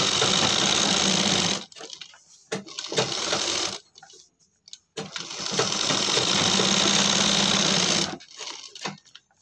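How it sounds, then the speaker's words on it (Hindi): A sewing machine stitches cloth for homemade slippers in loud, close runs of rapid whirring, broken by several short pauses and brief stops before it starts again. "अब यहाँ पर हम जैसे हमने ऊपर तले में सिलाइयाँ लगाई हैं सेम तरीके से सिलाई हमें यहाँ पर भी"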